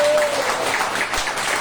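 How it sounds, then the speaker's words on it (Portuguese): Church congregation at a worship service clapping together, a continuous loud round of applause that carries straight through the short stretch, with a voice mixed in underneath. "Vamos aplaudir o Senhor pela vida deles."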